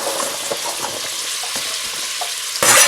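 Vegetables and carrots for a chicken stew sizzle in a pan as a wooden spoon stirs them, a constant frying hiss with soft scraping, which grows louder near the end.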